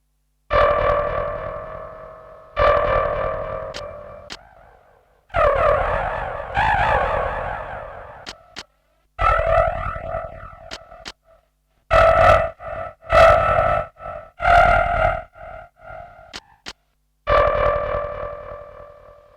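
Electronic keyboard tones play in separate bursts, each smeared with echoing delay, reverb and warbling chorus tails, with silent gaps between.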